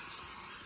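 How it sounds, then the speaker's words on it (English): Cooking spray hisses in one continuous, even burst as baking dishes are coated for loaves of bread in a home kitchen. "spray my baking dishes and get them ready for the loaves"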